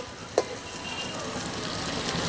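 Fish roe and egg fry together in a pan with a soft, even sizzle. One short knock comes near the start, and the hiss carries on alone.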